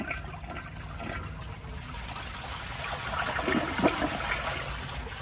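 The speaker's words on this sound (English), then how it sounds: "Let's go ahead and give it a flush with the low water level in the bowl." A 2002 Kohler Santa Rosa Ingenium toilet with low water in the bowl is flushed, giving a steady gurgling rush of water that swells toward the end before trickling on.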